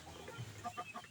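Rhode Island Red chickens clucking in a small, crowded backyard coop, a few soft, short clucks repeating at close range with low murmuring underneath and no talk.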